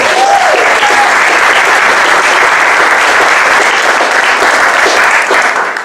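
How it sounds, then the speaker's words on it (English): A town hall audience breaks into loud, sustained applause, a dense wash of many hands clapping close and full throughout, with no talk on top. "Everyone give a round of applause for Josiah Fire."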